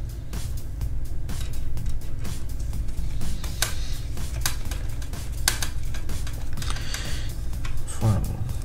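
An EZDIY-FAB vertical GPU mount being fitted into a PC case gives off a string of small plastic and metal clicks and taps against a quiet background, with one sharper snap near the end.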